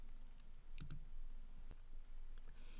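A computer mouse clicks the save button in Padlet, a few quiet, sharp clicks close by, a quick double click standing out against faint room noise.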